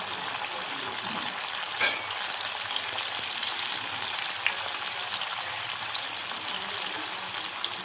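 Paneer pieces fry in hot oil in a pan for veg biryani, a continuous even sizzle with faint occasional pops and stirring noises, close and steady with no talking.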